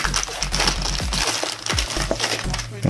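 A plastic bag holding clear canopy and instrument panel parts from a 1/48 ICM MiG-25 RBT model kit is handled close up, giving loud, continuous crinkling and crackling with irregular bursts.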